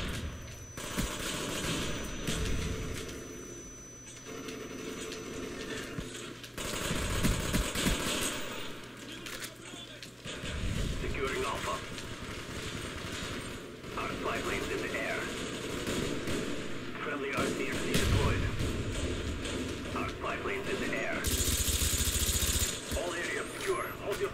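Gunfire in the video game Black Ops during a Domination match, bursts and rattling volleys scattered across the clip amid game noise, with a player talking over much of it.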